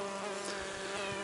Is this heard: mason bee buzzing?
yes